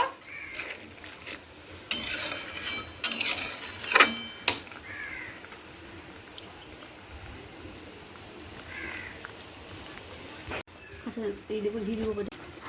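Raw banana fritters being stirred into simmering gravy in a cooking pot, with a few sharp scraping and clanking strokes early on, then a quieter bubbling background under a voice.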